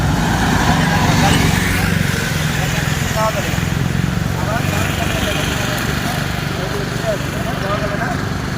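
A motor vehicle approaches on a road from the right, a steady engine drone over constant traffic noise, with a person talking throughout.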